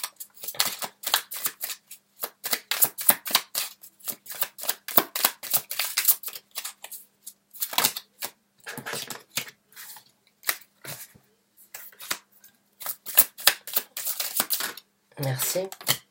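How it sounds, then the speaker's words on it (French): Tarot cards shuffled and handled in a reading, a close run of dry papery riffles and flicks in clustered bursts with brief pauses, no voice over it. "On va voir avec d'autres cartes, on va en sortir 2 autres."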